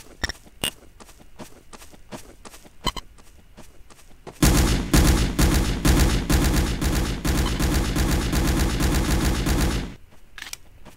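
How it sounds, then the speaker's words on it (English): Gunfire in a Garry's Mod World War II role-play match: scattered single shots give way to a loud, sustained burst of rapid automatic fire lasting several seconds, then a few stray shots. "Dude, I'm shooting."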